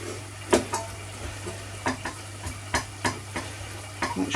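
Chopped onion frying and sizzling in a pan for a cottage pie, stirred with soft scrapes and clacks in an irregular rhythm over a steady background hum, close and moderately loud with no talk.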